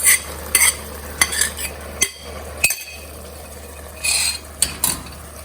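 Aloo posto, a Bengali potato and poppy seed dish, is stirred in a pan with sharp metallic clinks and scrapes of a spoon at irregular intervals over a low steady background, close by and without talk.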